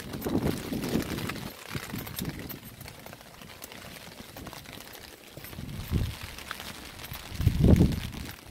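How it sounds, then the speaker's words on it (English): Gusts of wind rumble against the microphone outdoors beside a 2019 Honda Accord, uneven low buffeting that swells and fades with stronger bursts near the start and end. "Oh, a little windy out here."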